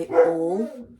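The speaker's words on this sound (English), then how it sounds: "sorry about the dog, they're barking at the neighbour's dog." A dog barks at a neighbour's dog indoors, a single drawn-out, whining bark that rises then tapers off, heard close and alone.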